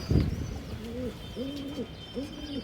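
A pigeon coos close by in a slow repeating series of soft, throaty calls, with faint background noise and a brief rustle at the start.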